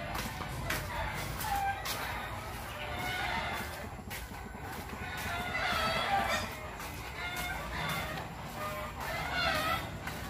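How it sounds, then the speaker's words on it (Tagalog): Backyard chickens in a rural Philippine yard cluck busily while a rooster crows intermittently, with neighbors' birds joining in; continuous, close-to-moderate flock noise with some shuffling throughout. "Nangingay na manok."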